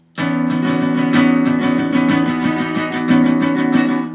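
Guitar plays the second part of a song, a steady run of quickly picked, ringing notes with hammer-ons, close and fairly loud.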